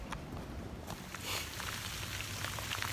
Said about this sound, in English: But here comes the rain.